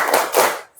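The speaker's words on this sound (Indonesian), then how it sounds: "kita tepuk semangat dulu. Ya, tepuk semangat." A schoolroom class doing the tepuk semangat spirit clap, two quick rhythmic clapping bursts close together, short and sharp, ending abruptly.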